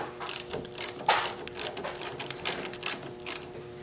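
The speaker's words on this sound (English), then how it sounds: "remove battery line from battery using 8mm socket" A hand ratchet clicks in short repeated bursts while an 8mm socket loosens a car battery cable, close and fairly quiet, with a steady rhythm of about two pulls per second.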